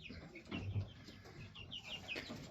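Jersey Giant hens and their young chicks in a cage give soft, quiet clucks scattered over a low background, with faint high peeps now and then.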